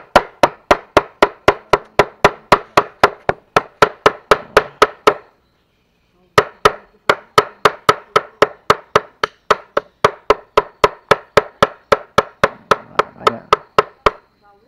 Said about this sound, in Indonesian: buah sawit yang sudah direbus dan sudah ditumbukkan, setelah itu dicincangkan lagi ya, biar lebih halus lagi